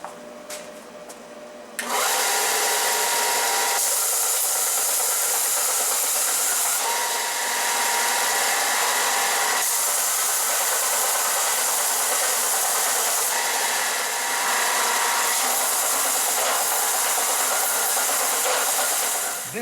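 A belt sander smoothing the rough edges of a metal end mill grinding fixture base starts up after a brief lead-in and runs as a steady, loud, close abrasive hiss with slight shifts in pitch as pressure changes.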